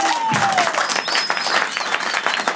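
A church congregation applauds with lively, dense clapping that sounds like a crowd, while tonal sliding sounds play over it throughout.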